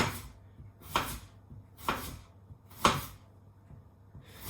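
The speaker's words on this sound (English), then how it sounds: "Chop my second potato. Super fast." A knife chops through a potato on a board, four fast, crisp, evenly spaced cuts about a second apart, close and clear.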